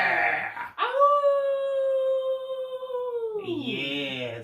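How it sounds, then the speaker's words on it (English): A single long wolf howl rises, holds a steady tone for several seconds, then slides downward and fades, loud and close, with other brief howling or yelping around it. "From the howling of the wolf, you, ladies and gentlemen, have entered Saturday Night Nightmare."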